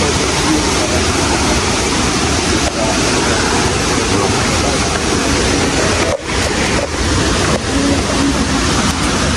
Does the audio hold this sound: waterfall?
yes